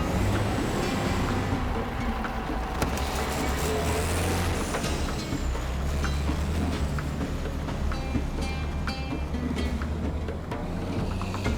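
A heavy truck nicknamed the Warthog rumbles steadily along a paved road at about 40 km/h, a continuous loud low engine drone with road noise and occasional rattles throughout.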